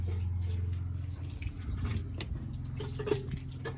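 Water gushing and splashing steadily from a heavy hand-pump tap (nalka) at a house in Sindh, with dripping and a low hum underneath, close by and without talk.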